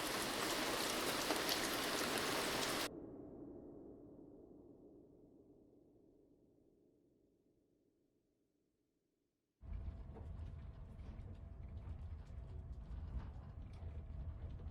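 Steady rain hisses for a few seconds, then gives way to a low fading rumble and near silence before a softer, denser rainfall sound returns and continues evenly to the end.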